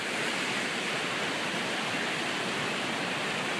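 A steady, dense roar of rushing water, constant and loud throughout, from the Argo Falls waterfall heard up close.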